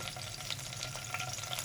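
Curry leaves frying in hot mustard oil in a pan, a steady close sizzle with soft crackles and pops running throughout.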